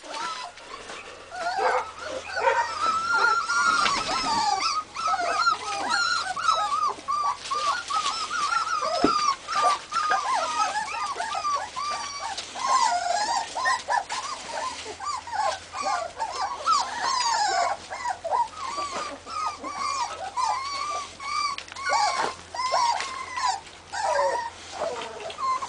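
Purebred Posavac hound puppies whimper, yip and growl almost continuously, their high, wavering cries overlapping close by.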